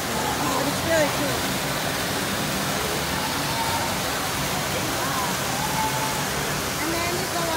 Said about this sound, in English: Sesame Place also has a lazy river.